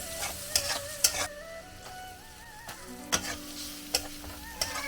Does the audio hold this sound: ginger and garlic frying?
yes